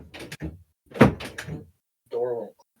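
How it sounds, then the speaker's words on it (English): A door that won't close gives a short creaking groan near the end, brief and fairly close, after a few moments of someone talking. "It's not a bell. It's my door."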